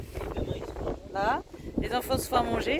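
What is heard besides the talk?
wind blowing on the microphone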